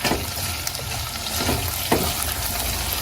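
Steady sizzling of garlic sautéing in a pot, a continuous crackling hiss with occasional soft clicks of stirring, close and moderately loud.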